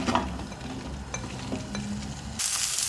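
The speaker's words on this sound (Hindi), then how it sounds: "1 मिनट मैंने इसको फ्राई कर लिया भिंडियों को।" Okra frying in oil in a pan for mutton bhindi, a soft close sizzle with a few light clicks of stirring, alone and steady, the hiss rising brighter in the last half second.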